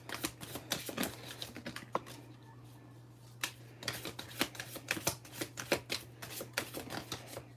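Tarot cards are shuffled for a reading, close crisp riffling in quick bursts with a short pause midway, over a low steady hum.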